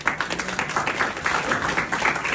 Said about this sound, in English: Clap, Stephen.